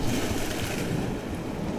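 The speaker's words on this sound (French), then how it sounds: "les vagues après elles montent jusqu'ici" Sea waves surging up a shore, a steady broadband wash with rumbling low surf and wind noise across the whole stretch, fairly loud and continuous with no voices.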